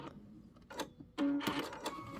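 Close sewing machine stitching through layered quilt with binding in short, uneven bursts of whirring and clicking, growing louder after a pause, with no voices.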